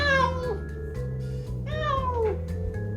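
A cat meows twice, long drawn-out cries close by, with a faint voice and low background hum underneath.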